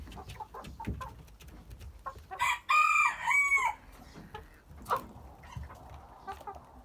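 A rooster crows loudly in the middle while hens cluck and scratch around nearby, no voices present.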